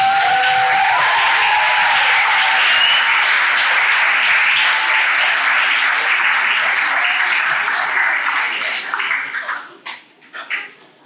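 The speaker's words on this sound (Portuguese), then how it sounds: "Palmas para os nossos convidados." Loud, dense applause fills a talk event as guests are called to the front, with voices mixed in, then thins into scattered claps and fades near the end.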